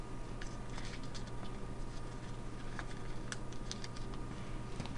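Origami paper is folded into a mouse with soft, rapid crinkles and taps close up, set against a steady low hum with no speech.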